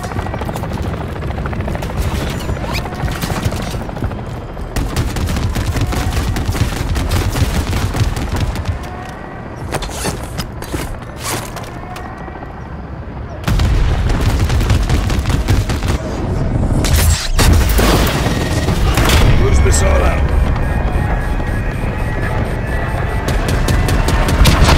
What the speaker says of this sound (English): Taking heavy fire! RPGs!